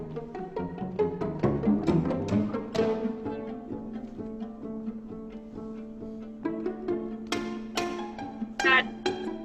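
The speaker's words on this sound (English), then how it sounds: "That's the sound of a snap pizzicato." String quartet playing with steady pulse and irregular accents, including sharp snap pizzicato plucks where the string slaps the fingerboard, heard among sustained bowed chords and plucked notes, close and moderately loud.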